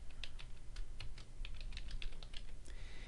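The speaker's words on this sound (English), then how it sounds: "You'll just type your email address in here" Rapid, light keystrokes tap out on a computer keyboard in quick irregular bursts, close and fairly quiet over a low background hum, with no voices.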